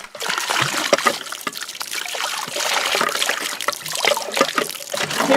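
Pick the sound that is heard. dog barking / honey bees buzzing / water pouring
water pouring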